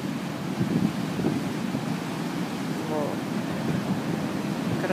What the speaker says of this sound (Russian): Там такие волны.